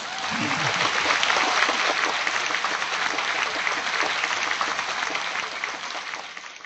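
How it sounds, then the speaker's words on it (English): An audience at a book premiere event claps in a sustained round of applause, dense and even, fading slightly toward the end. "Let's give him another round of applause."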